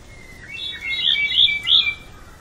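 Several bright, high chirps and short whistled calls from birds ring out one after another against a quiet, still background in a forest on Amami Oshima, Kagoshima, Japan.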